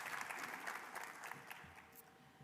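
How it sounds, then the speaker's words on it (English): Audience applause at a county government address, a fairly distant, moderate round of clapping from a seated crowd that slowly tapers. "Let's give them a round of applause for their contributions to advanced manufacturing and the construction industry."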